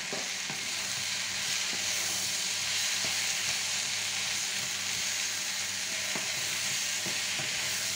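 Mushrooms fry in a pan for beef bourguignon, giving a steady, close sizzle with occasional stirring taps and scrapes throughout.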